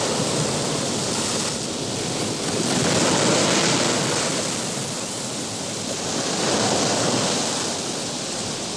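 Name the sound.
stormy ocean waves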